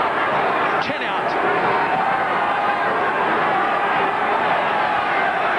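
Rugby test crowd at a New Zealand versus Great Britain match, a steady distant roar of spectators cheering the Kiwis throughout, under a commentator's voice.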